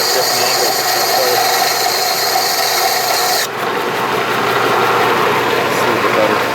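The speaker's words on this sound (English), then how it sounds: "You just want to hold it and just grind it all the way through so you have a single bevel" A grinder sharpens the single bevel on a SOG tactical tomahawk, giving a loud, steady, continuous rasp that briefly dips about halfway through before carrying on.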